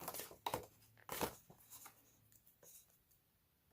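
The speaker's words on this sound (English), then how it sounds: "Get my scissors and cut this up." A few crisp paper snips and rustles close by, separated by short pauses, quiet overall.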